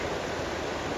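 A creek in Glacier National Park rushes steadily, a broad continuous wash of flowing water, close and even throughout.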